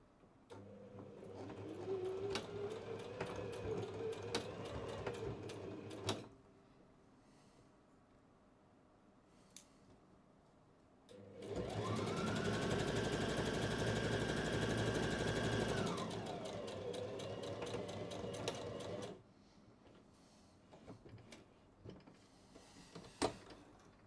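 A sewing machine back-stitches the high-stress seam of a linen kimono jacket, a close, rapid mechanical whir in two bursts, a shorter one early and a longer, louder run in the middle, with quiet handling clicks between.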